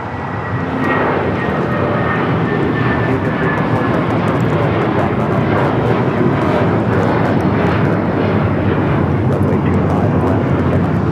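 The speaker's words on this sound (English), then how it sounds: "This is United Airlines 1843 taking off to Washington Dulles on the 757-300." A United Airlines Boeing 757-300 takes off from LAX, its engines a loud, steady broadband roar that swells early and holds strong throughout, heard from nearby without talk.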